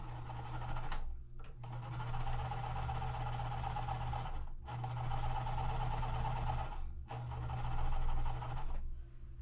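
A sewing machine runs steadily, stitching with Aurifil cotton thread at lowered tension, in long bursts broken by brief pauses, close and fairly loud.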